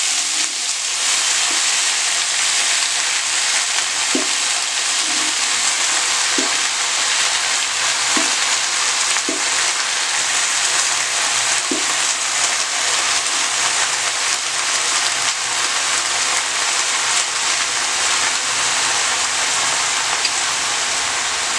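Fresh green spinach frying in a wok in a kitchen, a dense, steady sizzle and hiss with periodic soft stirring scrapes, loud and close, no voices.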